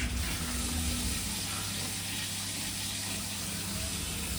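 Tap water turned on and rushing through household plumbing during a plumbing job, a steady broadband hiss with low hum underneath, continuous and fairly loud with no talk.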